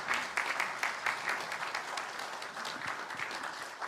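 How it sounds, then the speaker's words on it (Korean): Church congregation at a Sunday service clapping for its teachers, a moderate, continuous patter of many hands that carries on evenly for the whole stretch. "그리고 열심히 하라고 박수로 마치도록 하겠습니다"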